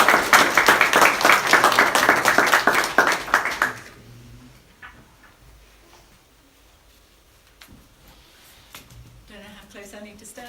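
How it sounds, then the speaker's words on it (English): An audience gives a loud round of applause for an arriving family, dense clapping for about four seconds that fades out, leaving quiet room sound and faint voices. "Perhaps we give them a big round of applause."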